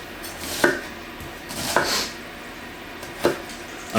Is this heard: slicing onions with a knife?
yes